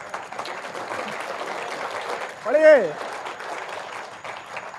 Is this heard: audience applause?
yes